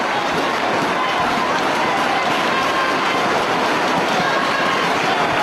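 A wrestling arena crowd cheers steadily for Danielson in a Ring of Honor match against Morishima, a loud, unbroken roar of many voices with no individual words standing out.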